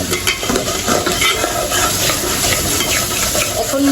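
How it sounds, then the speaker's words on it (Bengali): Spices with salt, turmeric and chili powder sauté in a pan, making a loud, dense sizzle broken by frequent scraping strokes of a spoon, close up and continuous, with no one talking. "মশলাটা একটু কষিয়ে নিব আমি"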